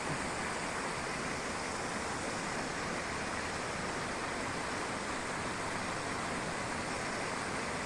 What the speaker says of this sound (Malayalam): കണ്ടോ വെള്ളം ചാടുന്നു കണ്ടോ